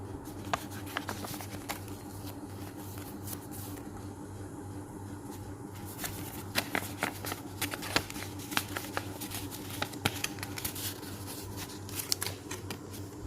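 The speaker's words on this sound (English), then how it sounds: "let us open the envelope" A paper Valentine's envelope is torn and handled in a quiet room, giving soft crinkling, rustling and scattered sharp tearing clicks at close range, with a steady low hum beneath and no talking.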